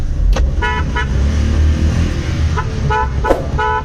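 A car with a dead battery runs after being push-started, its engine droning low and steady close by, while short horn toots cut in several times.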